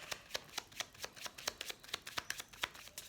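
Oracle cards being shuffled for a reading: a quick series of crisp riffling slaps in an irregular rhythm, close and fairly soft, with no talking.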